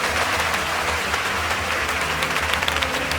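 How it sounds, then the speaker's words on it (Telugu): A large audience bursts into sustained applause for Swami Vivekananda's address opening with 'Sisters and brothers of America', a dense, continuous wash of clapping with a faint low hum underneath. "సభ 3 నిమిషాల పాటు చప్పట్లతో దద్దరిల్లింది"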